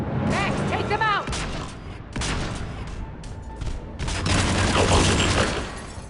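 Rapid rifle fire and booming impacts in a Mass Effect firefight, with dense bursts, mechanical clatter and a brief gap midway, loud and close.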